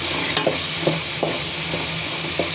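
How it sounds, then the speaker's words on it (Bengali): Turmeric frying in hot oil for a small-fish curry, giving a steady broadband sizzle broken by several soft spoon scrapes and stirring knocks, close and alone with no voices. "হলুদটা তেলে দিয়ে দিলে কালারটা সুন্দর আসে, তাই হলুদটা তেলে দিয়ে দেওয়ার চেষ্টা করবেন"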